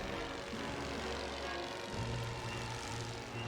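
The propeller engine of a World War I recon plane in The Great War: Western Front drones steadily and fairly quietly, a continuous buzzing hum with a slight shift in pitch partway through.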